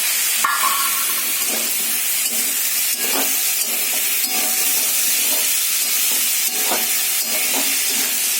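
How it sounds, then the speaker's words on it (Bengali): Fish added to hot spice paste in a frying pan, a loud, steady, close sizzle and hiss that runs throughout, broken by repeated soft scrapes and taps of stirring. "এবার একটু মাছটা দিয়ে দিই।"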